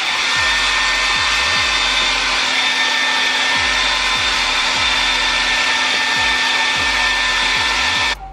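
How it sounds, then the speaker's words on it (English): A hair dryer blows steadily and loudly for several seconds, a constant whooshing hum with a faint low pulsing, cutting off abruptly at the end. "now you're just gonna take the blow dryer"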